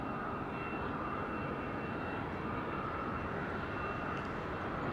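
A plane on the ground at Madeira Island Airport, overshooting the taxiway, gives a steady, continuous engine roar with a faint whine on top. It is moderately distant and holds level throughout, with no voices.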